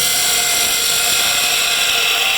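A wood lathe turns a tenon on a workpiece, giving a loud, steady, high-pitched whirring hiss of the tool cutting the spinning wood, continuous and close with no talking.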